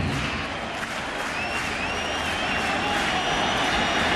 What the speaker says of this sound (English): This crowd to their feet applauding Paul O'Neill